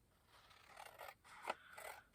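Scissors cut through journal paper along a straight line in several quiet, close snips and crunching strokes, with no talk.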